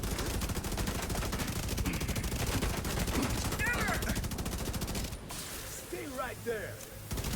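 Rapid automatic fire from an assault rifle with a 120-round magazine in The Division 2, a dense unbroken stream of shots for about five seconds that then cuts off, leaving quieter game sounds.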